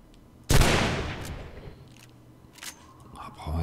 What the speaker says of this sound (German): wahnsinnig viele Schüsse,